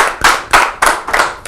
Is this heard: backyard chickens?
no